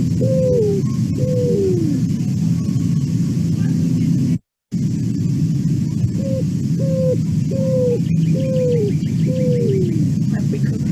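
A recorded cuckoo call plays as a series of repeated, evenly spaced descending notes in short runs over steady background hiss, with a brief silent gap partway through.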